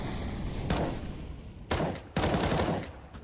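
Automatic M4A4 rifle fire in a competitive shooter match, with a short burst followed by two longer sustained bursts of rapid, loud shots and brief gaps between them.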